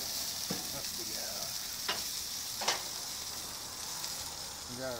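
Pork steaks sizzle steadily on a barbecue grill, a constant hiss of frying fat with a few sharp pops and crackles, heard up close with no talking.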